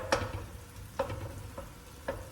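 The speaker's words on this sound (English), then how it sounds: "I do like to caramelise off the tomato paste. Just cook it through a little bit and bring the sweetness out in that." Tomato paste caramelising in a pan, being spread and stirred for puttanesca, giving a faint low sizzle under a few sharp spoon taps against the pan at roughly one-second intervals.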